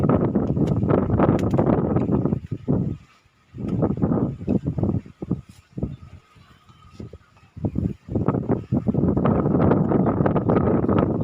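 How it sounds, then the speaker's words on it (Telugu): Strong wind buffets the microphone in loud, roaring gusts that come and go, with quieter lulls in between, outdoors in a garden of ivy gourd plants. "గాలి బాగా వస్తుంది"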